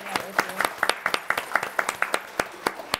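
A small group in a handbag designer's studio claps for Carlos, with sharp individual handclaps in a loose, quick patter over about three seconds.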